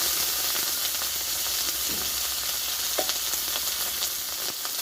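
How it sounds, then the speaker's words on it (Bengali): Ground ginger and tomato fry in oil for an eggplant dish, a loud, continuous hiss of sizzling with a few light scrapes of stirring, heard up close with no voices. "আদা টমেটোটা আমি ভালোভাবে একটু কষে দেবো"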